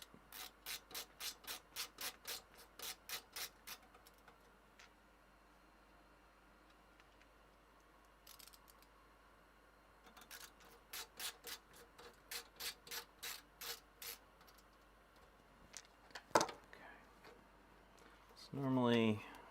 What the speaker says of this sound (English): Let's put a couple screws in that floppy drive.